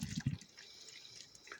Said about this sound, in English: So let's pour in some water.